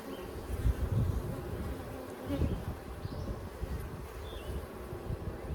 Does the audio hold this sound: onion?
no